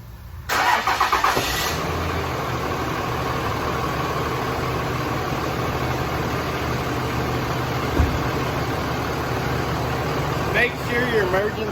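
A Dodge truck with a 48RE transmission cranks and starts, then settles into a steady idle with a constant hum running close for the rest of the clip, a brief clunk breaking in midway.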